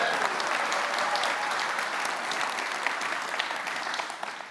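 Warm applause from a conference audience in a hall for a first-time speaker named Tim, a dense continuous wash of clapping at moderate distance that slowly thins toward the end.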